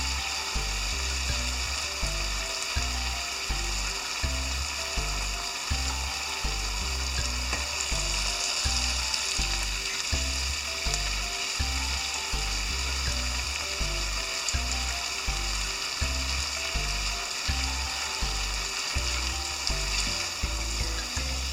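Pork bowl sauce bubbles and sizzles steadily as it boils down in a hot frying pan, with continuous crackling and popping and no voices.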